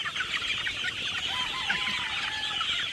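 Chicks in a brooder chirp continuously, a dense chorus of high peeping calls throughout with a few longer whistling notes; no talking.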